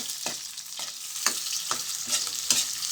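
Onion and ginger sautéing in a hot pan, with a constant bright sizzle broken by regular scraping stirs about every half second, close up and with no voices.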